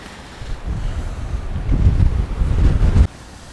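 Strong gusts batter the microphone outdoors, a loud rumbling roar that builds over a few seconds and then cuts off abruptly near the end.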